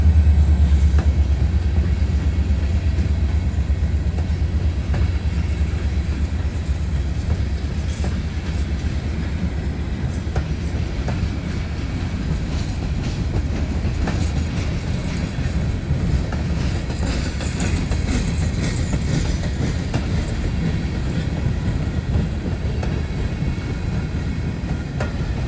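A freight train rolls past on the east end of the line, a steady heavy rumble with rail clatter and wheel noise that stays loud and close throughout.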